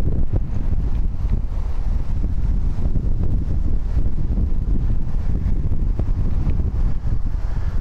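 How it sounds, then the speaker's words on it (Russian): Steady, loud wind buffets the microphone throughout a bicycle ride through an office district in Espoo, Finland, a continuous low roar with no talk. "Какой ветер начался."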